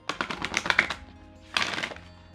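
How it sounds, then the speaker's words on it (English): A deck of wide, matte but smooth tarot-style oracle cards being riffle shuffled by hand, a rapid fluttering burst of card flicks, then a short second flurry as the cards bridge together, close and fairly quiet. "can do a nice little rifle shuffle"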